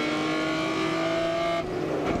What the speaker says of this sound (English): As you can tell by the engine note as you listen, that's one of the inline sixes.